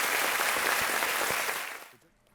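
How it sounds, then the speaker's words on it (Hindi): A studio audience on a television quiz show claps loudly and densely in a steady wash of applause that fades out quickly near the end. "तालियों के साथ इनका स्वागत।"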